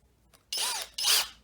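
A Skil 12V brushless drill at high speed drives a number 2 square-drive deck screw. The motor whines in two short, loud bursts, close up, with a brief pause between them and no speech.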